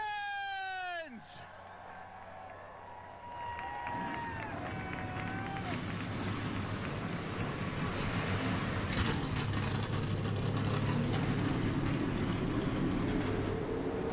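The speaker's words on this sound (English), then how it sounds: "21 cars fired up and rolling here to kick off the Gatorade Cup Series season" Stock car engines start up and roll at Daytona in NASCAR Racing 2003, a dense mechanical roar building from a few seconds in and swelling steadily, with brief whistling tones before the engines fire.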